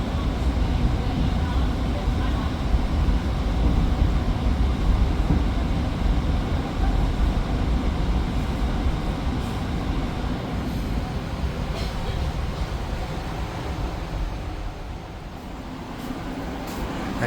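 The KA Gajayana executive train rolls into a station track, a steady loud rumble of wheels and carriage noise heard from on board that eases slightly near the end.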